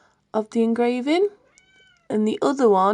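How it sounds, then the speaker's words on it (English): Nala, a pet cat, meows close by in a quiet room while someone talks about jewellery making, a brief thin cry between stretches of her speech. "that was my cat"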